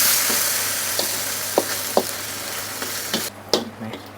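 Shrimp stir-fry with red curry paste and long beans sizzles in a pan under a steady loud hiss, with several distinct scrapes and clacks of stirring spaced through it and no talking.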